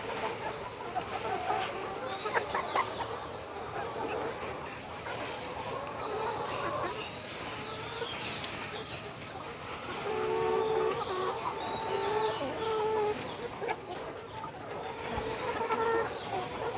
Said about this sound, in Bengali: এগুলো আমাদের ডিমের মুরগি।